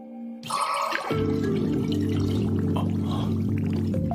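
Water pours in a steady, heavy stream after a short spell of quiet, conjured by water magic in an anime, loud and continuous with no speech over it.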